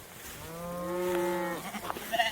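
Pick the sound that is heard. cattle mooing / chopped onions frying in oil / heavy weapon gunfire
cattle mooing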